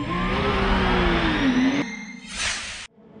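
Midget 1300 race cars launch at the start of a race at Circuit Paul Ricard, a loud engine drone rising in pitch as they accelerate away, then a brief burst of whirring noise before cutting off abruptly.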